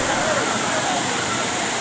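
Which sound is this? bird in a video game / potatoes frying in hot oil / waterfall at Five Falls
waterfall at Five Falls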